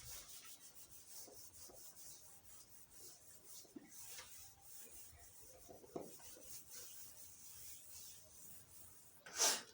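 Writing being rubbed off a board, heard as faint, irregular scrubbing and rasping strokes close by, ending in a brief louder scrape.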